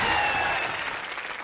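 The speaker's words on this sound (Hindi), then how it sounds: "मैं आप सबकी जोरदार तालियों के बीच इनवाइट करना चाहूंगा the evergreen ever young actor mister Anil Kapoor" A studio audience on a television comedy show breaks into loud, dense applause that carries on steadily and begins to fade slightly over the brief moment, with no speech.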